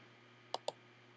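A computer mouse clicks twice in quick succession on a website, each click crisp and close, with near silence around them.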